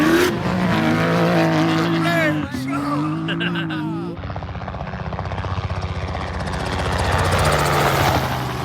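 A helicopter roars past close overhead, its rotor chop loud and rising then fading, with excited shouting over it at first.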